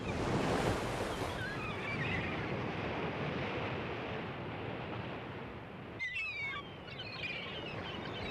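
Pacific Ocean surf breaking where Redwood Creek meets the sea, a steady broad roar of waves with wind noise across the microphone and faint bird calls near the end.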